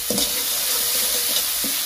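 Spice paste with turmeric, salt and sugar frying and being stirred in a pan for a fish kalia, a steady close sizzle broken by spoon scrapes near the start and end.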